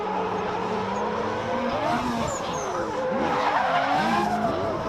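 Drift cars howl and skid around Sydney Motorsport Park, including Dan Christick's rotary-engined Mazda RX-7, with loud continuous engine wail and rising, swooping tire squeal that swells toward the end.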